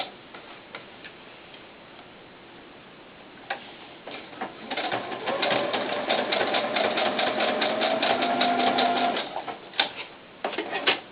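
A sewing machine running a knit stitch on stretchy leotard fabric: scattered ticks first, then a few seconds of fast, even mechanical stitching, followed by more sparse clicks.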